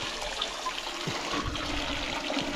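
Water running from a garden hose into a pressure washer makes a steady close splashing and gurgling flow, continuous and fairly quiet.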